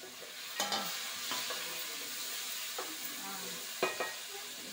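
Ingredients for rava upma with tomato fry in a pan with a continuous soft sizzle, punctuated by a few sharp spatula taps and scrapes against the pan.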